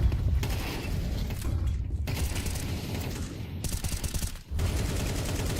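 AK rifles fire in dense, rapid automatic bursts during a Counter-Strike 2 esports match, overlapping shots forming a near-continuous loud volley with a short gap before it resumes.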